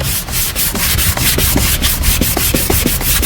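Hand sanding a welded plastic car bumper: quick, rhythmic back-and-forth scratchy rubbing strokes, close and loud, about three strokes per second with no talking.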